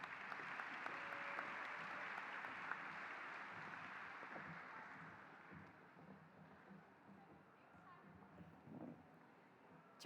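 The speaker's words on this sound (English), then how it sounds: "Round of applause to our top 10 section presidents." At the Illinois FFA State Convention, an audience applauds the top ten section presidents, a broad, distant roar of clapping that slowly fades, with a voice speaking faintly underneath toward the end.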